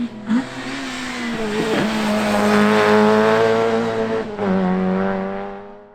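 A Corsa rally car driven hard on a stage at Nutts Corner, its engine loud and close, revving high and pulling through the gears with rising and falling pitch, a brief dip between shifts.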